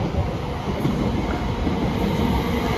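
A London Northwestern Railway train at Coventry Station, a loud, steady rumble and rush of wheels and motors rolling close by, with no talk.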